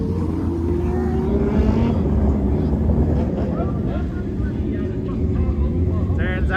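Race cars heat racing at i44 Speedway, a steady, loud engine roar running throughout with wind buffeting, rising and falling slightly as the cars circle the track.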